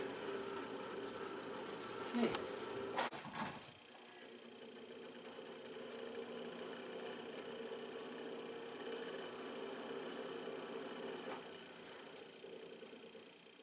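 An old Montgomery Ward heater with worn, loose bearings and a fan blowing air runs as a continuous low hum and whir, moderately quiet and steady, after a couple of brief knocks at the start.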